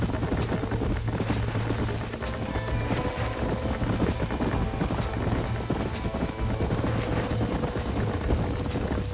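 Horse hooves clip-clop steadily in the Red Dead Redemption video game, several horses trotting in a continuous rhythmic patter beneath a low ambient rumble, with no talk over them.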